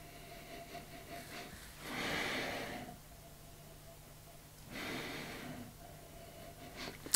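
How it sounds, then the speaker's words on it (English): Two slow, drawn-out sniffs at a glass of whisky, close to the microphone, separated by a quiet pause. "so I will add water, but first have a sniff on it"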